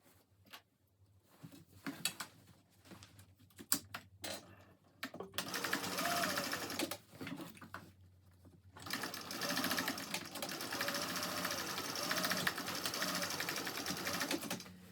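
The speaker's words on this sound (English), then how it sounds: "just clip it together and sew with a 3/8 inch seam allowance" A sewing machine stitches a 3/8 inch seam on a Cornish backpack, running in two steady bursts after quiet handling noises, fairly close and loud with no talking.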